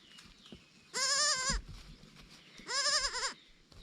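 Two loud goat bleats from a newborn kid's mother doe in a kidding pen, each about half a second long with a wavering, nasal tone, separated by a short pause with quiet background rustle.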